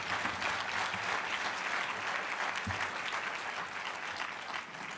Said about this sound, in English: Let's give Reverend Barber another round of applause